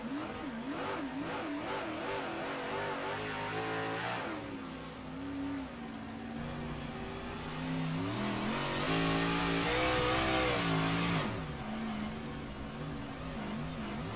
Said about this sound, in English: Listen to the throttle control here for a moment.